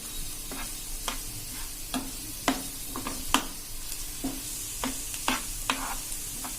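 Food fries in a pan over a medium flame while being stirred, a soft steady sizzle punctuated by repeated clinks and scrapes of the spoon against the pan, close and moderately quiet.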